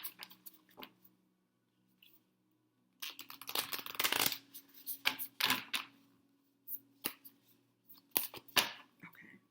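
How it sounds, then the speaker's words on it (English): Starseed Oracle cards are shuffled by hand in quick irregular bursts of riffling and slapping, close and crisp, with short quiet gaps between runs. "I'm shuffling the Starseed Oracle to see what messages they have"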